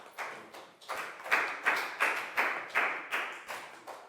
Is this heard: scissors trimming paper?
no